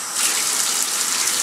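Water runs steadily from a tap while a pet is bathed, a close, even gush that fills the whole moment with no voices.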